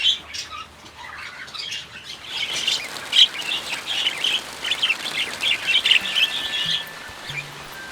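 Budgies in an aviary chirping and squawking in quick, bright bursts close by, with a few wing flaps among the calls.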